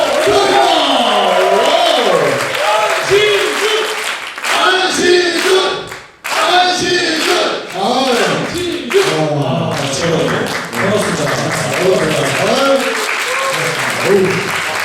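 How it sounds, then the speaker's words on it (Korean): A studio audience at a stage talk show gives loud, sustained applause with cheering to welcome a guest, with dense clapping and crowd voices that dip briefly midway and then swell again. "여러분 큰 박수로 맞이해주세요"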